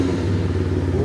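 Taro GP1 motorcycle on its stock exhaust idling right after starting, with a steady, loud low rumble close by and a slight rise in pitch near the end.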